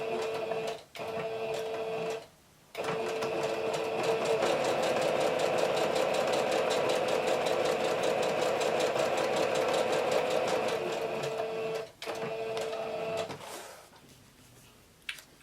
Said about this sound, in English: I already have my machine up, and I might just stitch down one side.